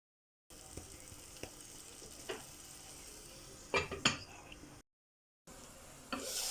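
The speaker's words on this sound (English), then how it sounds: "Mix well to ensure the ingredients are well incorporated" A spoon stirs liver stew in a pot, giving a few scattered scrapes and clinks against a soft simmering background, with a brief louder burst of stirring near the end and a short gap of silence.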